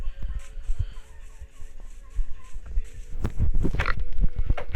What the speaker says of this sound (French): On va tuer le cochon ici.